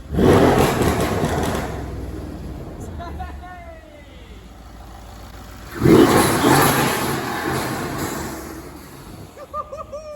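Mercedes-Benz CLS63 S AMG with intakes revving hard twice, each burst rising to a loud roar with turbo whoosh and whistle, then falling away into a quieter idle, close and prominent.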